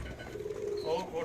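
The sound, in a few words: breeder pigeons cooing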